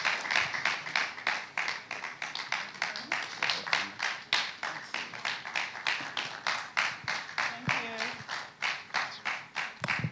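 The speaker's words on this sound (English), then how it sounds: "Ladies and gentlemen, a round of applause for her." Audience applause at a business panel event, a steady run of rhythmic clapping from a moderate crowd lasting several seconds, with a brief murmur of voices underneath.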